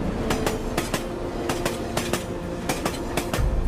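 An Indian Railways train runs along the tracks with a steady, rhythmic clickety-clack of wheels over rail joints, loud and close, with no voices.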